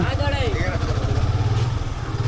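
A motorcycle engine putters with a low, even rumble in a narrow alley on the Batali Hill road in Chattogram, running steadily beneath a person talking close by.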